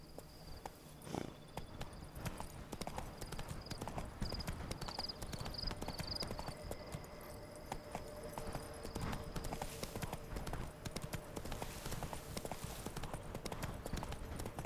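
Horse hooves clip-clop steadily in The Witcher 3, a continuous walking rhythm of close, fairly faint hoofbeats with faint ambient sounds behind.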